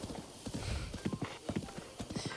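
Horse hooves trotting in the video game The Legend of Zelda: Breath of the Wild, a steady rhythmic clip-clop of rapid hoofbeats at moderate loudness against a soft ambient background.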